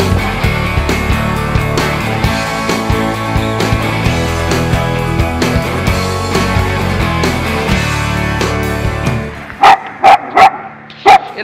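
A dog barks at cyclists on a hard trail during a bike tour near Girão do Paranaíba. A dense, loud wash of sound is followed by four sharp, evenly spaced barks at the end.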